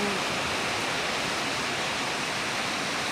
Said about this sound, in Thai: ฝนมาค่อนข้างหนักนะฮะตอนนี้